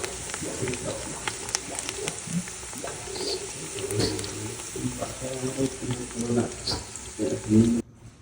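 Fish fries in a pan at an outdoor picnic in Florida, giving a steady close sizzle and crackle with occasional stirring, while birds chirp faintly in the background.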